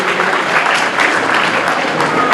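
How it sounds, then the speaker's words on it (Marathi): Steady, loud applause from an audience honouring the organisers at a chess tournament prize-giving ceremony, a dense continuous patter of many hands heard close. "आपण एकदा टाळ्या वाजवल्या पाहिजे की त्यांनी आपल्याला ही संधी उपलब्ध करून दिली"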